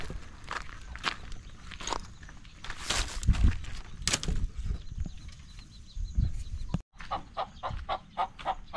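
Chickens sitting on eggs cluck in a farmyard while footsteps shuffle nearby, a string of short clucks in quick succession near the end following scattered steps and rustling.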